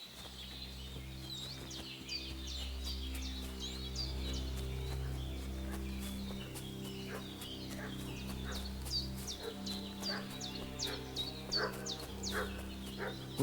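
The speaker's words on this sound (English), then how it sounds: "What's that dog making such a fuss about?" In the video game Kingdom Come: Deliverance II, a dog barks in rapid repeated bursts over a low droning village ambience, with a few bird-like calls mixed in. Barks come moderately near and keep going throughout.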